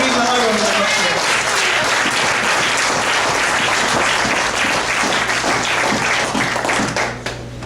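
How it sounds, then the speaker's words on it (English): Sustained applause from a graduation audience at a primary school ceremony, dense clapping filling the room for several seconds before tapering off, with a voice briefly heard at the start. "So give her a round of applause."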